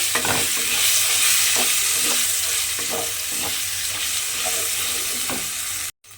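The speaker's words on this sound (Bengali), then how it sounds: "এবার আমি এই মশলাটা এই তেলের মধ্যে দিয়ে দেব। দিয়ে খুব ভালোভাবে একটু কষিয়ে নিতে হবে।" A ground masala paste of nuts and green chillies fries in oil, a loud, dense sizzle broken by regular stirring strokes, cutting out briefly just before the end.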